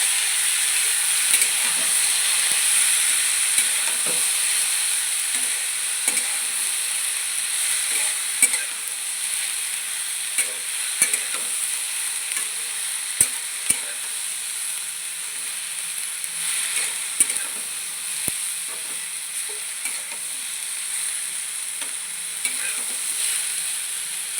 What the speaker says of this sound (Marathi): आपल्याला जास्त हे शिजून द्यायचं नाही बरं का थोडंसं नुसतं तेलात फ्राय करायचं आहे